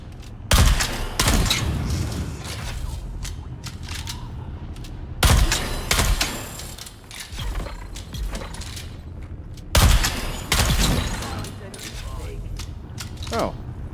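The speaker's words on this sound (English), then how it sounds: "I was just killing you because you were shooting at me" Gunfire in the video game Dune Awakening: three heavy clusters of sharp shots and booms spaced several seconds apart, with scattered mechanical clicks and rattles between them and a voice talking intermittently.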